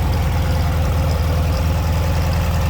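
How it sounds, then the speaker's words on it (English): An air-cooled VW engine in a 1984 MG TD Duchess replica roadster idles smoothly and steadily, a close, even low-pitched rumble with no talking over it. "Smooth running engine in here."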